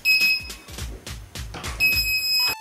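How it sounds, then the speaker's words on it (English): An Arduino keypad door alarm going off, giving loud repeated electronic beeps with a steady tone over a rapid series of thumping pulses, close and clear with no talking. "after that the alarm is activated"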